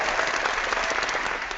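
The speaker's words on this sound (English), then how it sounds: "oh, there was the applause." Brief burst of steady crowd applause during a supervisory training session on paid time off, dense and even for its whole short length.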